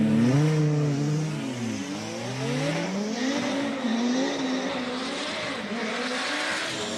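A Volvo 850 race car at a hill climb revs hard through rising and falling engine pitch sweeps as it shifts and accelerates, loud and close at first, then fading slightly as it pulls away.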